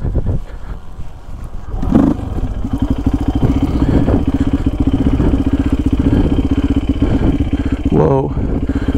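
A dirt bike is bump started in second gear outdoors on a trail; the engine catches after a brief low rumble and then runs steadily with a loud, close, rapid thrum and one short rev near the end.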